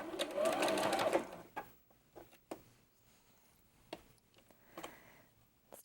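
Sewing machine running in a burst at the start while stitching the curved arcs of a mini double wedding ring quilt, followed by quiet handling taps and clicks.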